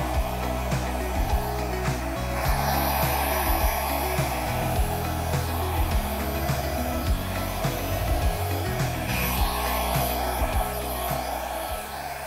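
Steady breathy air blowing through a straw across wet acrylic paint in a fall-foliage pour, a continuous close rushing hiss that persists nearly unbroken throughout, with no talk.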